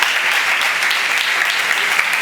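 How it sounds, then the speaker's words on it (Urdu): An audience at a church sermon breaks into loud, dense applause, steady clapping from many hands sustained throughout with no voices standing out. "اپنے لیے تالی بجا لو۔"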